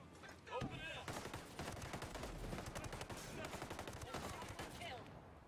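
Rapid automatic gunfire from Ghost Recon Breakpoint rattles in dense, loud bursts almost without pause, mixed with heavy combat effects over several seconds.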